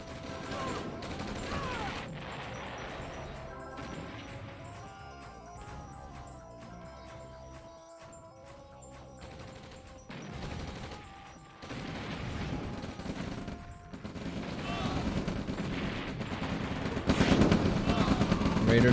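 Rapid video game gunfire from RT units shooting at infantry in a real-time strategy match, with bursts of shots and crashes that grow denser and louder toward the end under a commentator's continuous talk.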